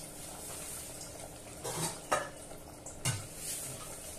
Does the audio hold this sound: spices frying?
yes